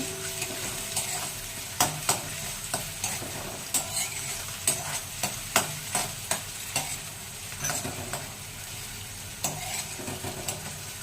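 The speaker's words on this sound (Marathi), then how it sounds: "कांदा हलवत राहायचा, नाहीतर जळू शकतो।" Onions sizzle steadily in a hot steel kadhai while a utensil scrapes and clinks against the metal in repeated stirring strokes.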